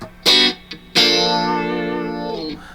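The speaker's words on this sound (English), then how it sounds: "Terry used a phaser sound on this" Electric guitar chords played through a Phase 90 phaser pedal, one short stab and then a long sustained chord with a sweeping, swirling tone, loud and up close with no talking.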